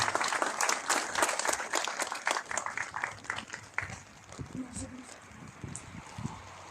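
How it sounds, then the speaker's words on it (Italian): Applause breaks out at the inauguration ceremony for a new emergency center in Gemona, Italy, with brisk clapping from a gathered crowd that fades to scattered claps, while a voice speaks over the latter part. "facciamo un applauso anche a loro"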